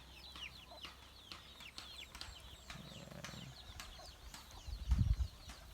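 Broiler chickens cluck and chirp repeatedly at a moderate distance over steady countryside outdoor ambience, with a brief louder rumble near the end.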